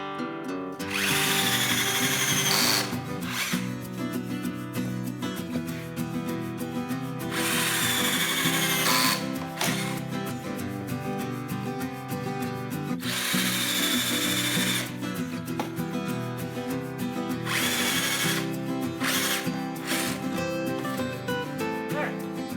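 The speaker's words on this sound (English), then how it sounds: "Just drill a bunch of holes." A power drill whines in repeated bursts as it bores holes into wood for a chicken coop, several drilling passes separated by brief pauses, loud and close.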